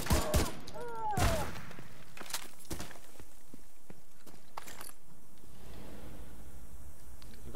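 Single shots from an ACR rifle ring out in the video game The Division 2. There are a few sharp reports near the start, then scattered clicks and footsteps, with a quieter background afterward.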